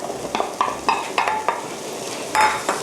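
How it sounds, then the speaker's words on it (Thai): Tuna is being mixed and mashed for a Japanese curry sandwich filling, giving a series of soft, wet scraping and tapping strokes from a spoon against a bowl, close and irregular, with no talk. "ปลาทูน่าเราจะ ขยี้ขยี้ให้ ชิ้นเล็กนิดนึงนะคะ นี่ค่ะให้เข้ากันเลย"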